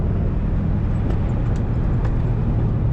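A Chevrolet Corvette Z06 lapping a race track, a steady, loud broadband roar of engine and road noise heard from inside the car, unbroken throughout with no voices.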